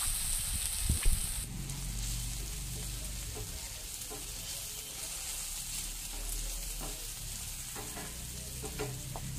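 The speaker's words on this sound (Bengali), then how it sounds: "সবজিগুলোকে মিডিয়াম আঁচে ভালোভাবে 2 থেকে 3 মিনিট ভেজে নিতে হবে" Vegetables fry on medium heat in a pan for a Maggi noodle and egg dish, giving a steady, even sizzle up close with soft crackles and no voices.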